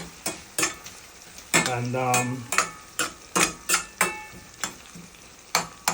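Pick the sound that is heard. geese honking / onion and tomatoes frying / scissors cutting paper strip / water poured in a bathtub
onion and tomatoes frying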